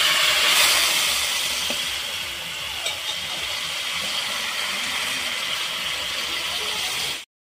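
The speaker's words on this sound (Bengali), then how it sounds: "এখন আমি সম্বরা দিয়ে দেবো।" Mustard oil tempering of cumin, radhuni and dried chilli poured into a puti fish curry with spinach, a loud steady sizzle and hiss that runs nearly unbroken before cutting off abruptly.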